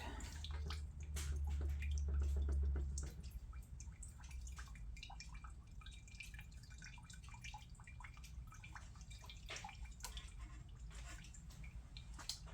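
Fuel dripping and trickling from the opened gas valve of a Honda EG1400Z generator in non-running condition, a close, steady stream of drips with a brief louder rush early on.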